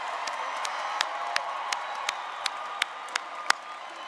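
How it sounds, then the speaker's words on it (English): Audience at the Eastlake High School class of 2023 graduation applauding, a steady wash of crowd noise with scattered sharp claps standing out at a fairly even pace. "Let's give them a round of applause."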